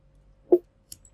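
A single short, punchy snare drum hit from an unprocessed original sample, standing alone with a faint tick after it.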